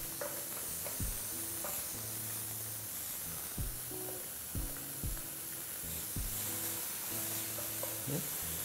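Fermented black beans and aromatics sizzle steadily in a pan, with a loud hiss throughout and several sharp knocks from a utensil stirring against the pan.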